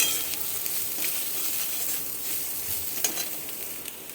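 Spice paste of turmeric, chili and coriander powder with salt and sugar frying in a pan for a Bengali mixed vegetable dish, a steady close sizzle with faint stirring scrapes.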